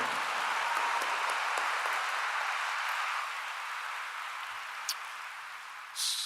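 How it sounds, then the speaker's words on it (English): A university commencement audience at Bowling Green State University, spring 2024, applauds its leadership with a steady, dense wash of clapping that fades slightly toward the end. "A round of applause, please, for the leadership of Bowling Green"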